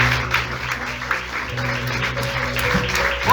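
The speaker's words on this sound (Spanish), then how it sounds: "Dale un aplauso a él." Applause from a church congregation during a service, scattered clapping over a low background hum and instrumental drone, moderately loud and continuous.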